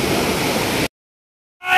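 Roaring, steady rush of water at the Khambeswari waterfall, loud and close. It cuts off abruptly after under a second, then surges back briefly at the end.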